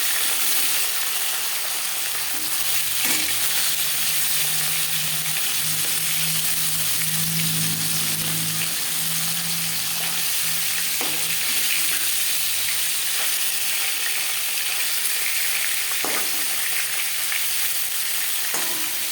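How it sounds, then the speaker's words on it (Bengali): Shol fish frying in smoking-hot oil in a wok, a loud, continuous broad sizzle with a few sharp spits and clatters, close up and steady throughout with no voices. "একেবারে তেল থেকে যখন ধোঁয়া উঠতে শুরু করবে তখনই মাছ দিয়ে দিতে হবে"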